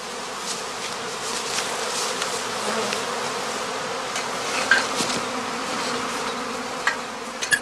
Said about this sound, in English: 2 or 3 times he shakes swarms into the same catching skep.